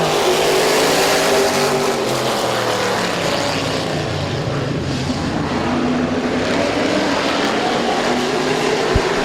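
Race cars roar together through an eight-lap heat race at Midvale Speedway, a loud, continuous, full-throttle drone of several engines close by with no break.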